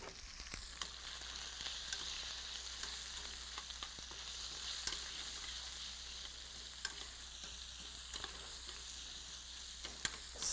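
Scallops sautéing in a pan, a steady low crackling sizzle with scattered sharp pops and spits throughout.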